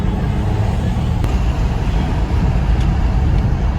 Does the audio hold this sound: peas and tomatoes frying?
no